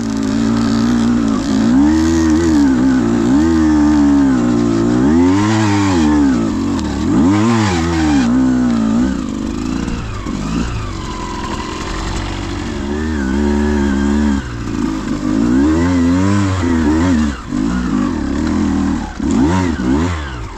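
Beta X-Pro dirt bike climbing hills off-road, its engine loud and close, revving up and down in repeated surges as the rider works the clutch, with no talk.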